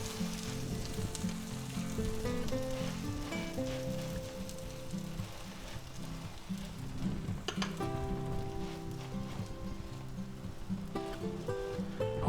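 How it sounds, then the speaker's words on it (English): Garlic bread spread with garlic butter toasting in a hot pan, giving a steady, soft, even sizzle that runs the whole time with a few faint scrapes. No voices. "Okay, there's our garlic bread. Now we're going to go ahead and toast it up."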